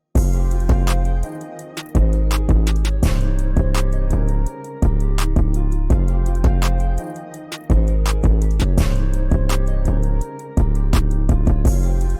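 Hip-hop beat produced in FL Studio: steady loud drums and bass with layered melodic parts, briefly dropping out for short breaks before the groove returns, no voices.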